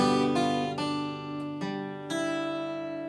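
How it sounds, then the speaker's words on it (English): Acoustic guitar notes are plucked in sequence over a sustained chord that keeps ringing underneath, each new note adding to the resonance. "hold the second and third fingers on as you do all this, so the chord rings out"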